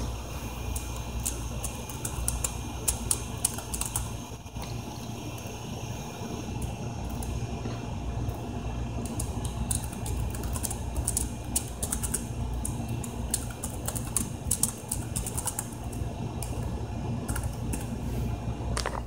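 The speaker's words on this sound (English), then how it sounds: "now let me type my password in" An HP Pavilion DV1000 laptop keyboard being typed on, giving steady, fairly quiet key clicks for a long stretch over a constant background hum, with denser flurries of keystrokes now and then.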